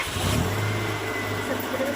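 A car engine running in a steady mid-pitched idle, loud and close, part of a car with a starting problem; a low hum holds throughout with slight swells, and no one speaks.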